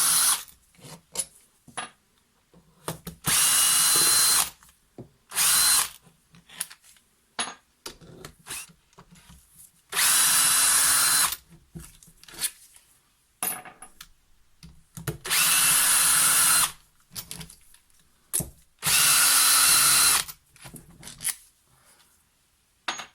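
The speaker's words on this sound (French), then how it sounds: "il faut desserrer les 12 vis côté gauche, cette fois-ci côté allumage, qui retiennent les deux parties du carter" Power tool loosening twelve crankcase screws on a DTMX engine's ignition-side casing, heard as repeated loud bursts of a few seconds each, separated by quieter handling and clinking of parts, with no voices.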